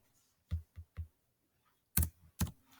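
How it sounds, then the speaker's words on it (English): A handful of keystrokes tap on a computer keyboard, a quick trio followed by a pause and two louder clacks, close and otherwise quiet. "So my typing is slower than normal."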